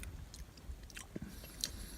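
Someone chewing a bite of cheesy chicken and noodles at a hammock campsite on the Pinhoti Trail, with quiet, close, intermittent soft bites and mouth sounds against a hushed outdoor background.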